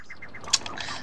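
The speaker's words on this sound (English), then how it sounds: "Oh, birds." Birds in the Super Mario Odyssey video game give a quick series of soft flutters and chirps, with one sharp bright blip in the middle, brief and close over faint game background.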